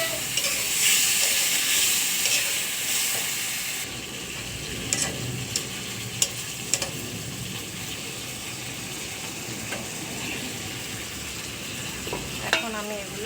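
Raw and ripe tomatoes sizzling and frying in a pan, a steady hiss with occasional clicks and scrapes of stirring, close and continuous without any talk.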